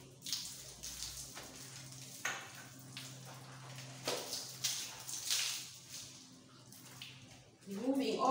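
Water is poured from a small container to rinse soap off a shower, with irregular splashes and trickles close by, a voice talking over parts of it, and a louder gush at the end.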